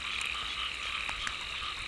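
Frog croaking steadily during a rainy night frog hunt, a dense continuous chorus close by with rain noise underneath and no voices.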